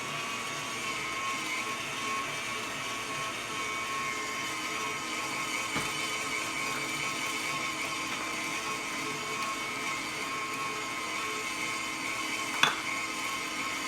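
A KitchenAid stand mixer with its meat grinder attachment runs steadily while grinding fat for burgers, a continuous motor whine with one sharp knock near the end and no talk.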